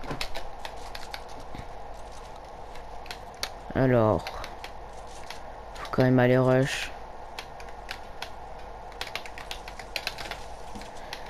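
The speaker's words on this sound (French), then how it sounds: "le bruit des touches, par contre, je sais pas si vous aimez, mais pas moi" Computer keyboard keys clattering rapidly during a game, with a steady stream of light clicks under a man's speech and short electronic game tones.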